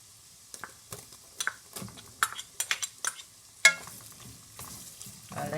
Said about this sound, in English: I'll let my garlic and onions soften.